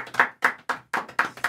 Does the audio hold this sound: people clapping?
yes